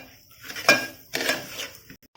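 Lapsi broken wheat roasts in ghee in a pan, heard as two distinct scraping clanks of a utensil against the pan in quiet surroundings.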